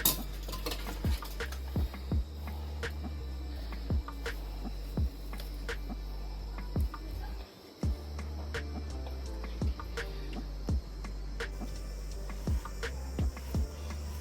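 A knife cuts through frozen homemade ice cream with sharp, irregular clicks and scrapes against a container, spread across a steady low hum, close and distinct with no talking.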